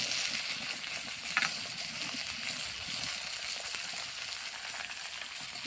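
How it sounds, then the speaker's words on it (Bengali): Eggplant and radish sizzle steadily in a hot pan as they are stirred, a continuous crackling fry with occasional scraping clicks of the utensil, close and even throughout, no talking. "এবার কিন্তু নেড়ে নিচ্ছি।"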